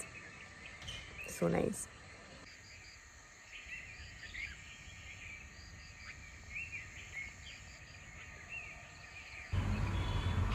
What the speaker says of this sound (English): I hope you hear the birds.